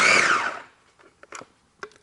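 A KitchenAid 3.5 cup food chopper on its chop setting whirs loudly for about half a second, then cuts out, followed by a few faint clicks and light knocks as the machine settles.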